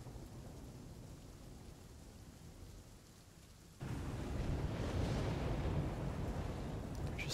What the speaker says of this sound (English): Can we get out of this stormy shit, please?